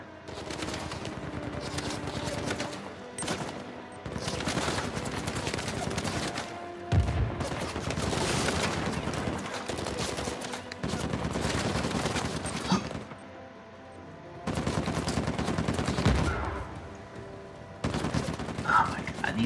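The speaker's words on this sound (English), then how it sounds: "Elena, shoot him!" Gunfire in the video game Uncharted 4, with sustained bursts of automatic fire and shots in repeated volleys, loud and close, while a player shouts over some of it.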